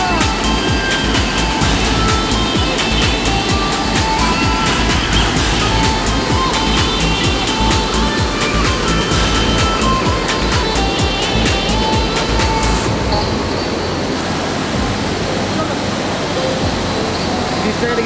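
Loud, steady broadband rush of a mountain waterfall, heard continuously from a bridge throughout, with no clear voices and a slight shift in texture near the end.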